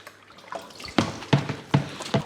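Water from a tap splashes and drips while a plastic home-brew fermenter lid is rinsed, giving several distinct splashy bursts at a steady pace over a quiet background.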